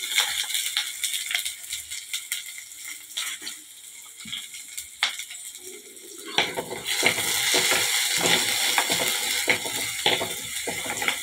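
Coconut oil sizzles and crackles steadily in a pan, growing louder and busier partway through as mustard seeds, shallots, dried red chillies and curry leaves go in, with occasional stirring clatter.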